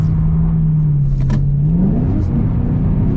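A 2013/14 Ford Shelby GT500 engine under way while driving, a loud steady low rumble inside the car that climbs in pitch as the revs rise toward the end.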